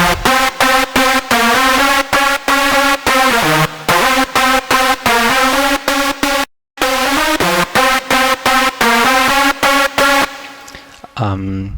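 Layered EDM drop lead built from Sylenth1 and Spire synths, dry with no effects: loud, bright chopped stabs pulse in a fast rhythmic pattern, with one brief silent break before the line resumes and trails off.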